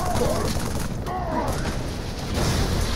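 Battle rifle fire in Halo 3, a dense, loud barrage of bursts and booms from the game's combat, continuous throughout with some warbling effects layered over it.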